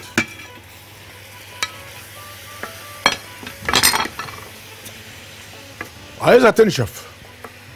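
Chicken stirred in a pot with spices including cumin and nutmeg: soft scraping stirs and clinks of a utensil against the pot under a faint low hum, with two louder bursts of stirring, while someone speaks briefly.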